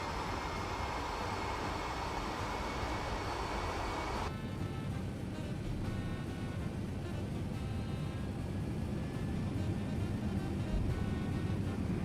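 A Lufthansa Cargo airliner takes off in a flight simulator: a steady, loud jet engine roar with a whining tonal hum that continues through the whole stretch, alone without talk.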